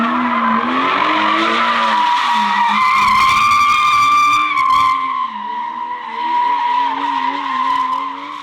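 A BMW E90 drifting, with tires skidding and squealing loudly for several seconds in long wavering shrieks while the engine drones and revs underneath, rising and falling as the car slides, with no voices.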